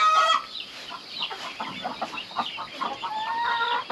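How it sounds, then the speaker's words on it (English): Broody hens clucking and murmuring close by at a nest, a string of short irregular clucks with a louder squawk at the start, no talking. "we have a whole group of broody hens over here"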